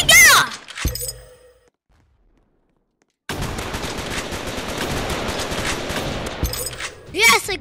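Machine gun fire in the War Simulator video game: a dense, sustained burst of rapid automatic gunfire lasting several seconds, loud and close, with brief sharp bursts and a short silence before it.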